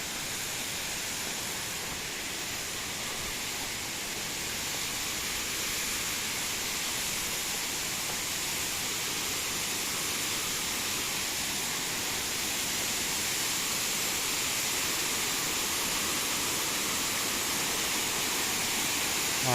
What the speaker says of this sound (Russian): А, еще река вот так вот.